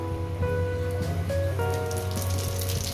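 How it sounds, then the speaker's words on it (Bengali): Panch phoron spices sizzling in hot oil for a hearty vegetable chorchori with hilsa fish head, a steady crackling hiss close by, filling the whole moment without pause and with no talking. "পাঁচ ফোড়ন দিয়ে দিলাম কয়েক সেকেন্ড একটু ভেজে নেব"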